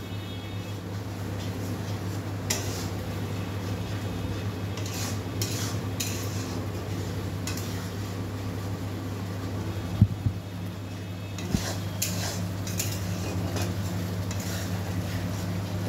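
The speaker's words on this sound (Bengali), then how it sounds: "মশলাগুলো কষছে, মশলা সব দিয়ে দিয়েছে" Spices frying in a pan, a low continuous sizzle with occasional spoon stirs and a few sharp knocks against the pan, close and steady, with faint background talk.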